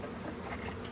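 Honey bees from a package being installed into a new hive give a dense, steady buzzing hum, close and continuous with no talk.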